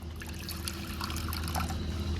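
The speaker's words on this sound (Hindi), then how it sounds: "एक बर्तन ले लीजिए, उसमें ऐड कर देते हैं थोड़ा सा पानी" A quiet, steady trickle of water pouring into a container, soft and close, with faint clinks and no speech.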